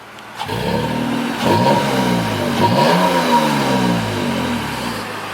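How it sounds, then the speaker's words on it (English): A third-generation Toyota Tacoma engine with a new exhaust revs sharply twice from idle, rising and falling in strong, loud sweeps before settling back to a steady rumble. "Let's do a quick rev real quick."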